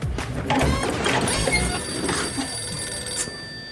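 A telephone rings indoors in a sitcom household scene, a bright trilling bell repeating steadily for several seconds over a busy, noisy room background.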